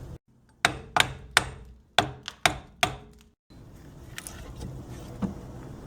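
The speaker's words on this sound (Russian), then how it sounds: "просто берем молоточек и аккуратненько подбиваем" A small hammer gives about six sharp, evenly spaced metallic taps against a rear brake caliper on an Audi A6 C5, close and crisp, followed by a quieter stretch of workshop background noise.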